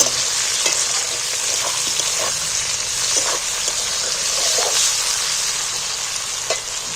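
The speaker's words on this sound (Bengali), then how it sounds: "একটুখানি ক্যাপসিকাম লঙ্কা সেটাও দিয়ে দিয়েছি দুটো কাঁচা লঙ্কা দিয়েছি এইটাকে একটু তেলের মধ্যে হালকা করে নিয়ে" Capsicum and green chilies fry in oil, giving a loud, steady sizzle close up, with occasional soft scrapes of stirring and no talking.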